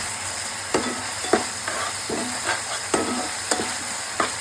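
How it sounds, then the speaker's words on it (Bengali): Coriander powder and chili powder sautéing in hot oil in a home kitchen, with a steady sizzle broken by about six sharp spatula scrapes and stirs at irregular intervals, close and fairly loud. "এবার কষিয়ে নেবো ভালোভাবে"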